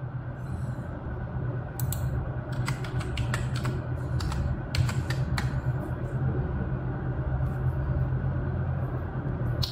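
Scattered clusters of key presses on a computer keyboard in a PC repair shop, some quick bursts and single taps, heard close over a steady low hum of machinery.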